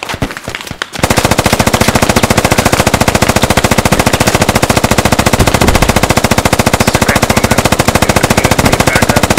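Rapid, sustained automatic weapon fire in the military shooter game Squad, very loud and close, a long unbroken burst of evenly spaced shots following a second of quieter noise at the start.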